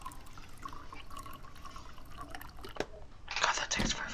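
Water runs into a coffee maker in a horror video game, a steady close trickle that ends in a louder rushing pour, with a voice talking over it.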